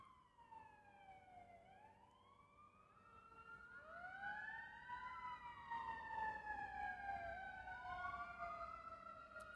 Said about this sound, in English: even as that siren is going by now